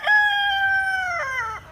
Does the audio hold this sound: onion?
no